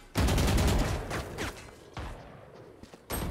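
Gunfire in the video game Valorant crackles in rapid bursts of sharp shots, followed by scattered single hits and quieter clicks, fairly close and without talk.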